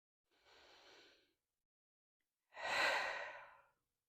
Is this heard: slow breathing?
yes